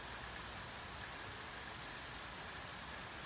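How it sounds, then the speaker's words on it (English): Quiet, even rain falls outside without a break, a soft continuous hiss with scattered drop taps and no other sounds. "And it's really raining now."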